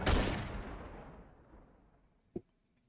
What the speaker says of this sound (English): A single gunshot echoes throughout the room.